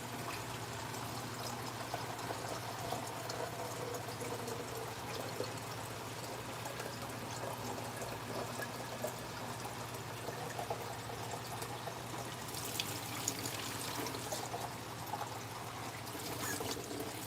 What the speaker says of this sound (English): Oh my gosh, Spongy, I forgot to put water in the kettle.